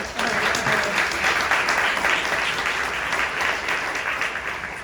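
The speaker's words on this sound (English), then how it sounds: "So definitely a round of applause for Mary." Sustained audience applause at a charity luncheon, a dense, even wash of many hands clapping from start to finish with no talk over it.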